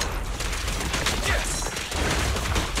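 Rapid gunfire in the game Zenless Zone Zero, a continuous rattling burst of shots running loud and close under the in-game action.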